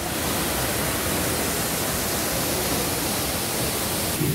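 Steady, loud roar of rushing water at Düden waterfall in Antalya, a dense unbroken wash of falling water heard up close and alone.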